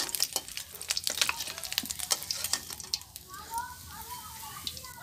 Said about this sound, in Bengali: এবার একই রকমভাবে বাকি মাছগুলো ভেজে নেব।